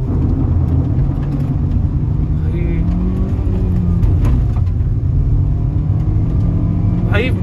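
A Kia Carens 1.5 petrol car accelerates hard with a loud, steady engine drone and road rumble heard from inside the cabin, while someone talks over it.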